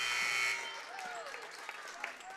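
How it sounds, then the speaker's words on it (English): A loud electronic buzzer blares briefly to end a quarter at a girls' high school basketball game in a gym, then fades into crowd noise and applause. "As the buzzer sounds to end the third quarter by Bollinger."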